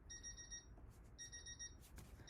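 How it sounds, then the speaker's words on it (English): A timer alarm beeps in repeated bursts of rapid high-pitched tones, separated by short pauses, loud and close over a low background hum. "Okay, that's my timer."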